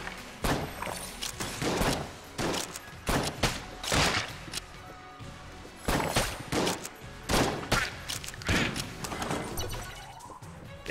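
Gunfire in the Enter the Gungeon video game, loud bursts of blasting shots and impacts firing in irregular clusters with brief pauses between volleys.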